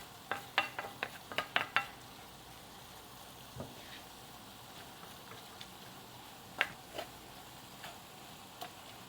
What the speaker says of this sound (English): just breaking up the meat a little bit more. And just kind of mixing it around so it's getting cooked on all sides.